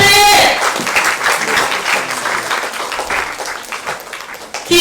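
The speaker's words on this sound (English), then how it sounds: "Keep clapping until he gets to the stage." A stage drama audience claps steadily, a broad crackling wash of applause that starts loud, eases slightly, then swells again at the end, with a shouting voice briefly over the opening.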